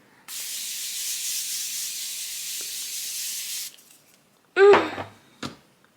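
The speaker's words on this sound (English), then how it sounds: "you add some spray." Makeup setting spray sprayed in one long, steady, close hiss lasting about three seconds, followed by a pause and a few soft handling sounds of the bottle and skin.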